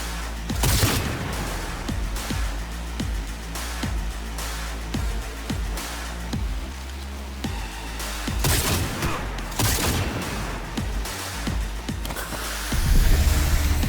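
Gunfire from a sniper rifle in the video game Cyberpunk 2077: a rapid string of sharp, loud shots with booming impacts over a steady tonal game-music bed, ending in a heavier blast.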